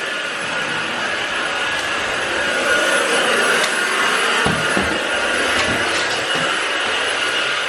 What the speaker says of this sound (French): L'aspirateur a été passé.